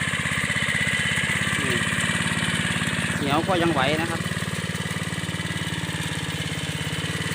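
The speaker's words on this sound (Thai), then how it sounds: "เจ้ารถไถน้อยมาลุยดินเหนียวนะครับผม" A small old tractor engine chugs steadily at idle with a rhythmic low thrum in clay soil, while someone speaks briefly over it.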